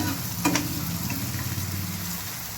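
Steady sizzling of a spice tempering for saag in hot oil, a continuous close hiss with a brief louder crackle near the start; no voices.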